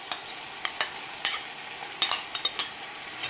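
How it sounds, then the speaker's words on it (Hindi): Mutton cooking with whisked yogurt in a pan for yakhni pulao, quiet sizzling under a series of sharp, irregular clinks and scrapes as a spoon stirs the meat, close and fairly soft. "मीट को 3-4 मिनट जो है फ्राई करूँगी, अच्छे से भून लूँगी।"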